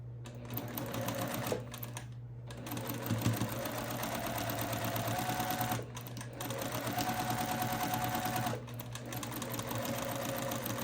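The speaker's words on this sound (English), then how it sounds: "We'll chain piece these. We have 4 to sew." Sewing machine chain piecing quilt pieces, loud steady stitching runs broken by three short pauses as each piece feeds through.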